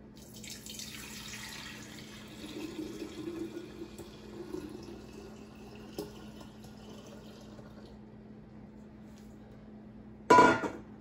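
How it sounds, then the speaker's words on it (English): Watermelon juice poured into a pitcher runs as a steady, close liquid stream for several seconds, ending in a brief, sharper clunk. "Now you want to just add your watermelon juice to the pitcher."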